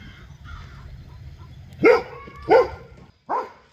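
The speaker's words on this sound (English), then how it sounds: "That was a crow." A crow caws three times outdoors on a homestead, each short harsh call standing out clearly over a low background rumble, spaced about half a second to a second apart.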